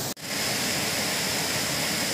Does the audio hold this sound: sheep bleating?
no